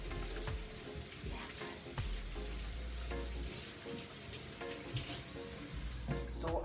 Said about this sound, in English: Take a few seconds to wash your hands.